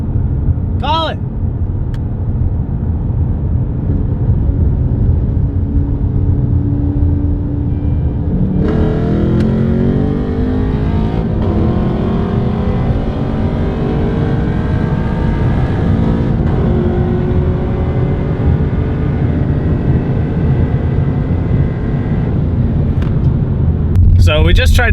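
Cars accelerating hard in a roll race from 60, one of them a 500 hp Camaro, give a loud sustained engine roar that climbs through gear changes with wind noise throughout.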